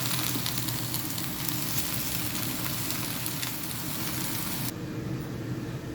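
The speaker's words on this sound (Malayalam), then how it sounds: "ഇനി ഒന്ന് മിക്സ് ചെയ്ത് കൊടുക്കാം." Drumstick (muringakkaya) thoran is stirred in a hot pan, a dense, steady sizzle close by with faint scraping that drops off abruptly near the end, and no voices.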